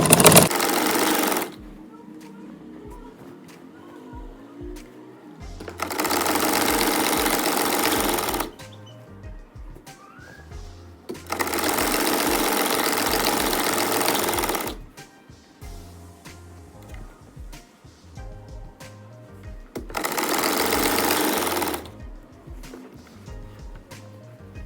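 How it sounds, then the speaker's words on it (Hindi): A sewing machine stitches ladies' trousers with an attached elastic waist in four loud, steady runs of several seconds each. The runs are separated by quieter pauses in which someone speaks. "सेट करते जाना है और सिलाई लगाते जाना है।"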